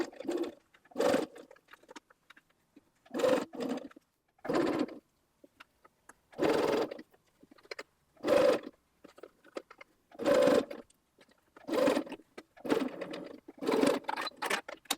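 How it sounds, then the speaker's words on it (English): A sewing machine stitches through a single strap layer of a hanging tea towel in a series of short bursts with pauses between, close and moderately loud with no voices. "Pin in place and then sew only through the one strap layer"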